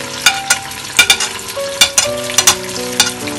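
Ginger garlic paste and green chilies frying in a pan, a steady sizzle broken by sharp, irregular clinks and scrapes of a spoon stirring against the metal, close and clear.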